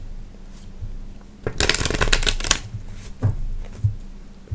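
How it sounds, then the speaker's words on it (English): A deck of tarot cards is riffled in a loud burst of fluttering shuffling that lasts about a second, then a few softer taps and card slides follow in a quiet room. "Let's give this a good shuffle."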